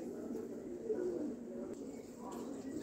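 Kalsara Teddy pigeons coo softly and low, a murmuring throaty warble heard over a steady background hum, with someone talking over much of it.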